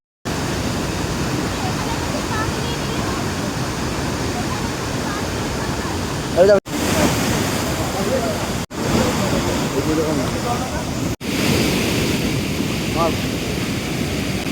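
Sitakunda waterfall rushing in a continuous loud roar close to the microphone, with wind buffeting and short breaks where the recording cuts.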